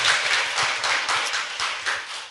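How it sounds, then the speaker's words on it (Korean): Audience applause at a Korean political talk show greeting a defeated Gyeongbuk provincial governor candidate: dense, steady clapping, close and fairly loud, filling the whole stretch with slight rhythmic swells. "박수."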